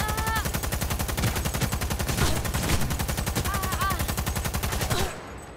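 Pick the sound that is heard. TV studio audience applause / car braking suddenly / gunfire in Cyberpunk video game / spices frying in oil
gunfire in Cyberpunk video game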